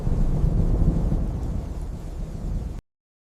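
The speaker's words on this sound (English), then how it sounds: "She was caught in a fierce storm, and a bolt of lightning struck the cliff edge she stood upon." Thunder in a fierce storm after a lightning strike, a loud, continuous low rumble with a rain-like hiss that rolls on for a few seconds and then cuts off abruptly.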